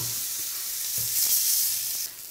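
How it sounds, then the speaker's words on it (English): Lamb shanks sear in a very hot pan, two at a time, giving a steady, loud, hissing sizzle with a few faint stirring knocks and no voices. "I'm gonna start searing these just two at a time"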